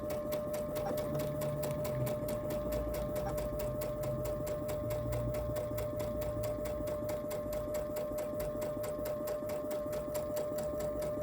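A sewing machine runs steadily and close by while stitching the seam of a patchwork pillow, its fast even needle rhythm going on without a break.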